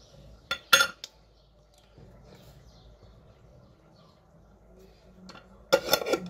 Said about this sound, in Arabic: هاخد كده معلقة مليانة من حبة البركة، وهبدأ أضيف عليها معلقة